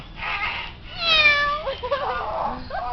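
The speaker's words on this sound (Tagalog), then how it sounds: "Humingiyaw naman." A cat meows loudly with a long, rising and falling cry, followed by softer chirpy sounds, with a person talking around it.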